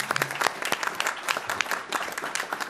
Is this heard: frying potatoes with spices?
no